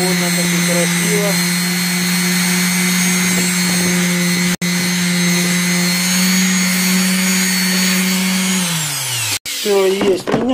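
Steel being polished with 240-grit sandpaper on a spinning power tool, a loud steady whine with a strong constant hum, briefly cut off twice before it winds down near the end.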